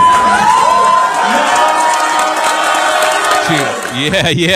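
A crowd cheers and applauds as a steady, loud wash of noise, with tonal music-like sounds layered over it and a burst of voices near the end.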